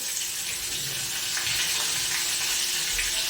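Tomatoes, turmeric and salt go into hot oil in a pan for a green pea dal, giving a steady, loud, broadband sizzle that holds evenly throughout with no voices.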